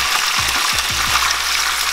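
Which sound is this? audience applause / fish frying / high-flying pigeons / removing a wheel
fish frying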